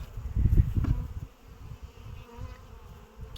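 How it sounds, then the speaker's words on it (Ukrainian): A low, steady buzzing of many honey bees at their hives, louder at first and then settling into a continuous hum with no voices. "Багато вже є молодої бджоли в вуликах."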